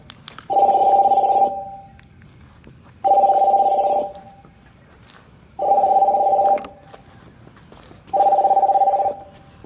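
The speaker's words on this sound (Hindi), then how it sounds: "बस में एक कॉल जाने की आवाज आ रही है ब्लूटूथ से" A telephone ringback tone heard over Bluetooth from a call placing itself, repeating four times, each steady electronic ring lasting about a second, separated by short pauses.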